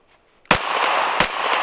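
Two sharp, loud reports from a Glock 19X pistol about 0.7 seconds apart, each followed by a ringing, echoing tail that lingers between and after the shots.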